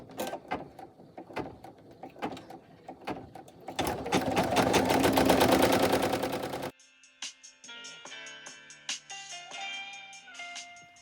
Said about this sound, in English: Now it is going to stitch the tack down stitch for the back.